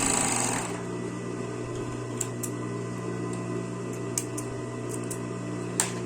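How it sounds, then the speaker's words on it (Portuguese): An overlock machine sews elastic onto children's swimsuit fabric in one continuous, close, even hum, with a few faint clicks and no talking. "dou atenção no elástico, coloco o tecido e costuro"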